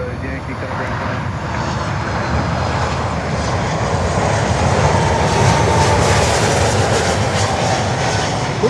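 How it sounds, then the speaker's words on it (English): An Aero Mexico Boeing 737 MAX 9 jet in special livery moving at Miami airport, a loud sustained engine roar and broadband rumble that holds steady throughout. "Special livery, Aero Mexico 737 MAX 9."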